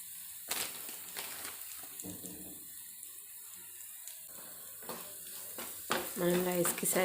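Onion rice is stir-fried with salt and chili powder in oil, with a soft background sizzle broken by several loud scraping stirs of a spoon against the pan, heard up close with no speech.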